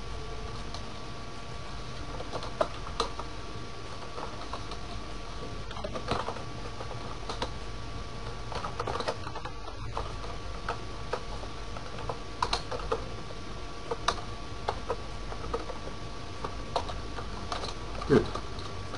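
Quick bursts of clicking on a computer keyboard as networking commands are entered, close and fairly quiet, irregular taps with short pauses over a soft steady background hiss.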